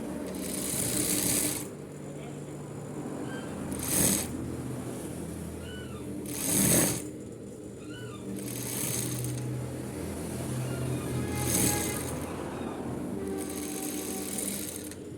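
A sewing machine stitches a suit coat collar with a continuous whirring drone close by, broken by a few brief louder clacks of handling or repositioning fabric.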